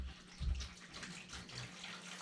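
Water siphons through a hose into a bathtub during an aquarium water change, a faint low gurgle and a brief splashing surge followed by a steady quiet trickle and a soft rushing flow, with no voices.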